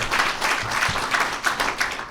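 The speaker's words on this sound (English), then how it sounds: "clap your hands and make some noise, everybody" Church congregation in Bronzeville clapping hands together in a dense, continuous wash of applause for a couple of seconds, fairly loud and steady, with crowd noise mixed in.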